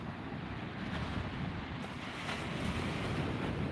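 Ocean surf rolls onto a beach at night in the Brunswick Islands, a steady, loud, continuous wash of breaking waves mixed with wind buffeting the microphone, with no talking.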